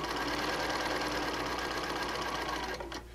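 A sewing machine stitches quilt pieces in a steady, rapid whirring run, close and even, then slows and stops near the end, with no talking.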